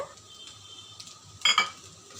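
Fried prawns go into a pan of restaurant-style prawn fried rice; a soft sizzle and stirring scrape with a brief louder clatter of metal on the pan near the middle, fairly close, with no talking.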